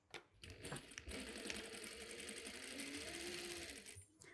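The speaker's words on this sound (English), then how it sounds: "Now I'm going to stitch from the bottom of the first pocket to our basted line, and then to the second pocket, and then down" A sewing machine stitches the pockets of a striped midi summer dress along a basted line, a fast, steady, close mechanical chatter running for about four seconds after a few brief clicks.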